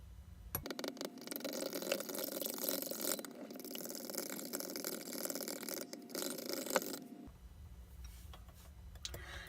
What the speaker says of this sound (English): Now I'm going to beat these yolks until they're fluffy and pale.